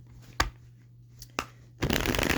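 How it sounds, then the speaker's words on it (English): Tarot cards are shuffled in a few quick riffling bursts, two short snaps followed by a longer, louder flurry, close and quiet otherwise. "we're gonna shuffle the cards 3 more times."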